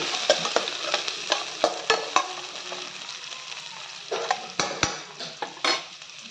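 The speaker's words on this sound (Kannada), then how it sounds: "ಈರುಳ್ಳಿ ಚೆನ್ನಾಗಿ ಫ್ರೈ ಮಾಡಿ" Finely chopped onions frying with mustard seeds in a pan, with a continuous close sizzle and repeated sharp scrapes and clinks of a spoon stirring against the pan.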